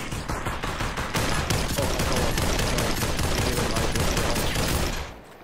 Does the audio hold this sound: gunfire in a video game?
yes